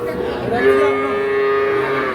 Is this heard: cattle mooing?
yes